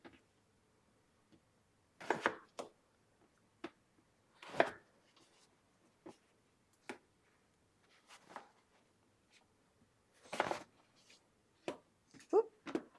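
Vegetables diced with a knife on a cutting board for samosa filling, giving close, irregular thuds, some in quick clusters and others spaced apart, with quiet gaps between them.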